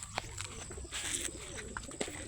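A homing pigeon lands at its loft, giving a few soft, faint coos and brief wing flutters over a steady background hiss.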